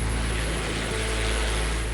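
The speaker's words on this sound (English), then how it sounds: "As the helicopter began to rise" Helicopter lifting off, its rotor and engine giving a loud, steady droning roar with low thudding blade pulses that continues without a break and with no voices over it.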